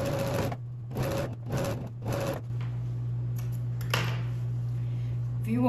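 A sewing machine stitches the sleeve cap seam of a blouse in four quick bursts of whirring, close and fairly loud, then stops. A steady low hum continues afterward with a few faint handling sounds.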